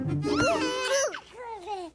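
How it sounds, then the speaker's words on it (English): Babies babble nearby in a steady stream of warbling, rising and falling vocal sounds lasting about two seconds, with the voices fading slightly toward the end. "I hear the babies, but I don't see them."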